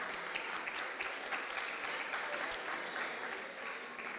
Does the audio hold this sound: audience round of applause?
yes